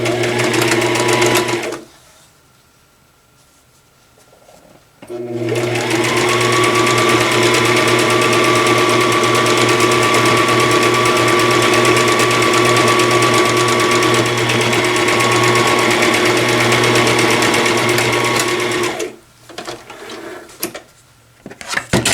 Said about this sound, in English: I'm just going to sew my stitched piece down right to my backings without anything in between